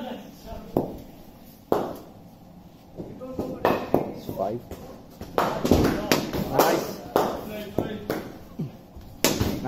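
A cricket bat strikes the ball during front-foot drive practice, sharp cracks arriving every second or so, mixed with thuds and footsteps, while a coach's voice calls out between the hits.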